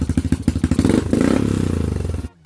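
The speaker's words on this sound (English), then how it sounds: "The Jardine RT-1 sport bike muffler was definitely the best sounding and performing muffler in my opinion." A Honda 300 Fourtrax 4x4 ATV engine fitted with a Jardine RT-1 sport bike muffler revs in quick sputtering bursts, then rises into a steady rasping drone through the loud exhaust before cutting off abruptly.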